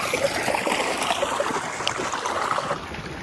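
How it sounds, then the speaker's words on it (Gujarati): Borewell water pouring into a small farm tank, a steady rushing, splashing flow heard up close and fairly loud, unbroken for the whole stretch. "આરે બોરનું પાણી આવે, એ પાણી આ કુંડી આવે,"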